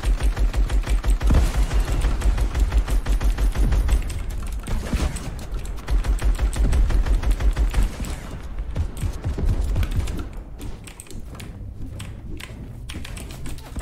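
Rapid bursts of video-game gunfire crackle loudly and almost continuously, dense automatic volleys filling the first half and thinning into sparser shots later, with no talk over them.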